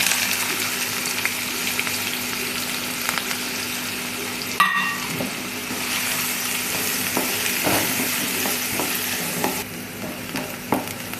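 Two chopped onions dropped into hot oil for a Bombay duck and potato curry, a sharp burst of sizzling followed by a long, steady fry with spatula scrapes and stirring strokes, loud and close.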